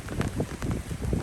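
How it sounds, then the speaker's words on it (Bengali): Strong gusty wind ahead of a Kalbaishakhi storm, with light rain falling, roars in uneven surges against the microphone, loud and close, rising and easing several times. "প্রচণ্ড বাতাস বইতেছে"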